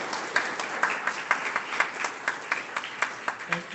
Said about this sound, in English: So maybe one big applause for Akshat.